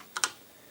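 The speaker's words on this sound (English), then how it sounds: "Now we're going to type 800" Two quick keystrokes on an Apple IIe computer keyboard, crisp and close, followed by a quiet room.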